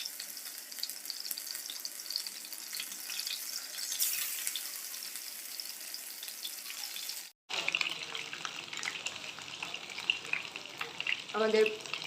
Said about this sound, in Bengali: এরপর একে একে মাছগুলোকে আমি এই ব্যাটারে চুবিয়ে তেলে ছেড়ে দেব